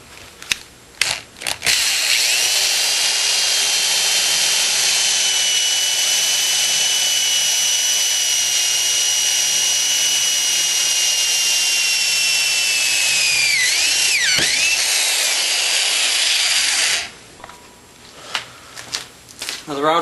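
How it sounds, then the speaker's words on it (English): A 1/2 inch drill bit bores into aluminum with a loud, high, steady whine that lasts about fifteen seconds and dips near the end. A few clattering knocks come before the bit starts and after it stops. "I'm going to do that with a big 1/2 inch bit, which tends to wander when you put it on the aluminum."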